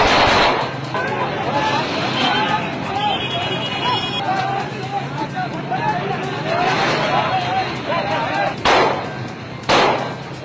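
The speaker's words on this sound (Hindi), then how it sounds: "खुलम खुला हवाई फायरिंग जो कि कानूनन जुर्म भी है" Open aerial gunfire rings out amid forced market closures in Karachi, Sindh, with several loud, sharp reports, two standing out near the end, over a steady crowd hubbub and street noise.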